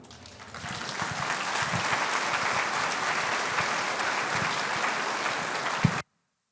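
A church congregation applauds steadily during a Sunday service, a dense, loud wash of clapping that swells in quickly, holds for several seconds and cuts off abruptly.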